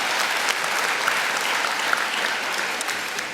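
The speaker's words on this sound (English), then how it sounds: "that's worth applause." University convocation audience for the education and social sciences faculties breaking into steady, sustained applause, a dense even wash of many hands clapping at a moderate distance with no talk over it.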